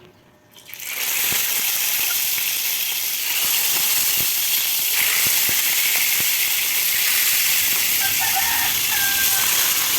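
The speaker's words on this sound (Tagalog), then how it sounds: "masyadong matilamsik ngayon yung ating pagprito dahil wala siyang breeding" Unbreaded fish fries in a hot pan with a loud, constant sizzle and scattered close pops of splattering oil that continue without a break.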